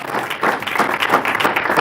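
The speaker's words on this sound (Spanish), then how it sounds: "Yo le volviera a dar un aplauso más fuerte a Jesús" Worshippers in a church give Jesus a loud round of applause, a brief dense burst of many hands clapping together with a close, full sound.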